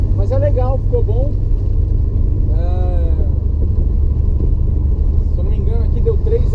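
Supercharged Dodge Dart with a 318 V8 held at full throttle on a chassis dyno, a loud, steady low engine roar filling the whole stretch while someone talks over it.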